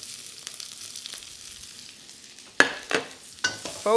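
Onions and peppers hitting smoking hot oil in a wok, a quiet low sizzle that breaks into sharp bursts of spitting and clattering as the vegetables are tossed.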